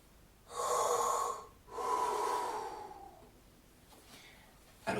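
Two deep, forceful intercostal inhalations for trombone playing, loud and close, each a breathy rush lasting about a second, the second one tapering off slowly, followed by a faint quieter breath.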